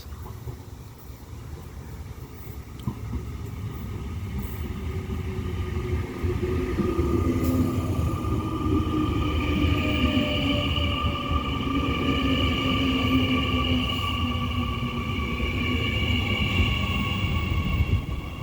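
A passenger train of D-set cars rolling through Cockle Creek station platform, a steady loud rumble of wheels on rail with sustained tonal squeal and hum building slightly and holding, no voices.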